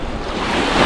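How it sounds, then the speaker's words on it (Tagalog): Sea waves wash onto a beach during a group outing, a brief steady rush of surf and wind noise, close and fairly loud, with no voices. "Ganda ng dagat o, ang linaw."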